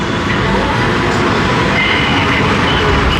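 Coaster train at Play DXB indoor theme park in Dubai Mall going round its track, a steady loud rumbling roll with a continuous rail roar and no talk.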